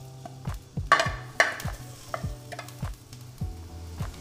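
Onions fry in oil in a pan for a potato and cauliflower dish, a spatula scraping through them in a quick, regular rhythm with a faint sizzle underneath, close and clear.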